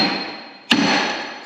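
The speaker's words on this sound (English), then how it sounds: "I grab my hammer, it's on the other side, and I'll whack that in." A hammer strikes a part on a Bobcat hub once, a single sharp metallic whack close by over steady background noise.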